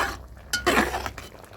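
A spoon stirring bubbling dal and vegetable curry with curry leaves in a pot, a few short scraping clinks of metal against the pot in quick succession, close and clear with no talking.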